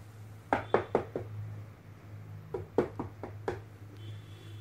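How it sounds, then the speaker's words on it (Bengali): Soft knocking on a door as an audio-drama sound effect: a quick cluster of three or four light raps, a pause, then a second run of about five raps, each hollow and close. "দরজায় মৃদু ধাক্কাতে তার ঘুম ভেঙে গেল।"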